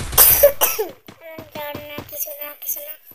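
Two sharp coughs at the start, then a voice talking briefly, close to the microphone.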